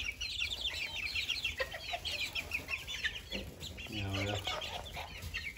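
Miniature Aztec bantam chickens and a small rooster cluck and call close by in a coop, with short repeated clucks and one longer call, under a man's quiet speech.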